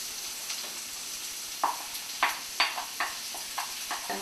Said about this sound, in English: So I'm going to add in my onions now.